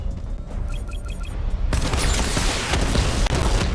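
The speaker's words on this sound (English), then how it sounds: "Missile barrage level 2 ready." A Batmobile missile barrage fires in Batman: Arkham Knight, a dense loud burst of rapid blasts and booms that erupts after a quieter lead-in of electronic beeps.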